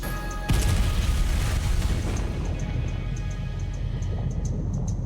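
TNT charge detonating a live underwater shell seen from a cliff top: one sudden loud deep boom that then rolls into a long rumbling roar and wash of debris, fading slowly.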